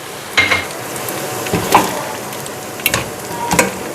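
Garlic-ginger paste frying in a pot for beef nihari, a steady loud sizzle broken by several scraping stirs of a spoon against the pot.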